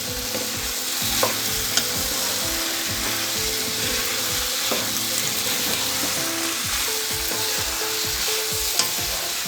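Spices and masala being stirred into country chicken in a hot pan, with a steady oily sizzle under repeated scraping strokes of a spoon throughout, close and fairly loud with no talking.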